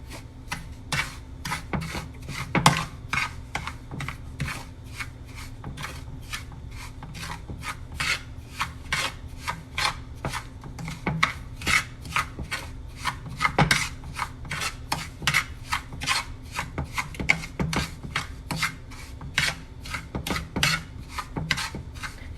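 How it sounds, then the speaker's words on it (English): Rava (semolina) being stirred in a pan over a medium flame, a long run of dry, gritty scraping strokes in a quick irregular rhythm with occasional sharper clicks of the spoon against the pan, close and moderately quiet. "Keep stirring."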